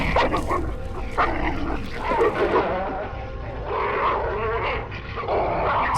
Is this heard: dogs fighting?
yes